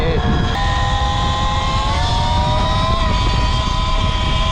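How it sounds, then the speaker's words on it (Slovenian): An E-Ride Pro SR electric motorbike rides a wheelie, its motor giving a steady rising electric whine over loud wind and road rumble, with a voice talking underneath. "Samo kako se ta motor vozi po zadnji."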